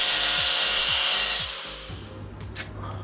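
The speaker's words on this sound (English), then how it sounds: "So this tile, I'm going to have to trim it and trim here." Shower wall tile being trimmed with a power saw, a loud steady grinding cut with repeated rasping strokes that eases off near the end, leaving a lower hum and a few brief higher scrapes.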